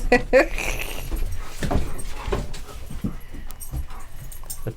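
A dog pants and whimpers close by with some jangling and movement noise, while a person talks over it.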